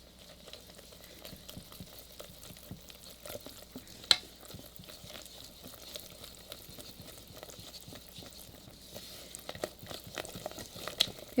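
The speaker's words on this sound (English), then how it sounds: "And mix it all together" Chocolate waffle batter stirred together with unsweetened cocoa powder and oil, a soft, steady scraping and swishing of a utensil through thick batter that runs close and quiet throughout, with a few sharper clinks against the bowl.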